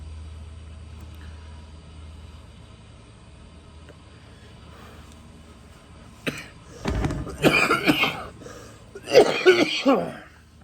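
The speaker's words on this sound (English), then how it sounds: "Just a cough." After a stretch of quiet low background rumble, someone nearby coughs and clears their throat in several loud bursts.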